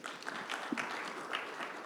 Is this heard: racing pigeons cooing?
no